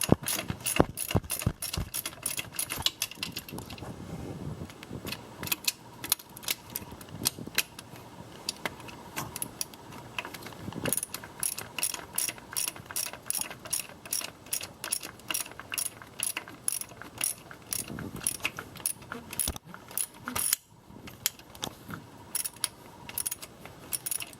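A ratchet tightens a bolt during a swap of a 2016 Prius engine into a 2012 Prius V, with rapid, close clicking bursts repeating throughout and brief pauses between strokes.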